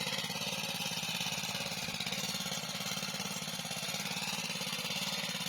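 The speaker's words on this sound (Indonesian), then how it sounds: "Traktor mini ya." A mini tractor engine runs steadily outdoors in a rural landscape, a loud, rapid chugging putter with a constant mechanical rattle and no break in the rhythm.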